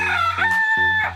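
A rooster crows loudly nearby in one drawn-out call, strained and harmonic, with a brief hitch midway.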